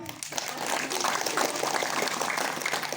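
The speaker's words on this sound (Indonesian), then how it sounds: "tepuk tangan." Audience applause at an Islamic sermon gathering in Karawang, West Java, a dense steady clapping that fills the whole moment at a moderate, even level.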